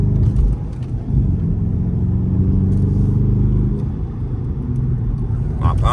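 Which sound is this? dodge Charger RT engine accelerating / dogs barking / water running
dodge Charger RT engine accelerating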